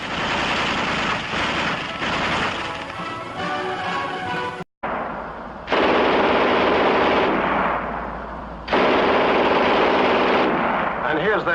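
A German MG42 machine gun fires several long, dense ripping bursts separated by brief gaps, loud and close, with a harsh continuous roar in each burst.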